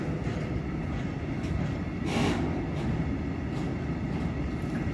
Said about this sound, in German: Das müsste eigentlich ein Güterzug sein.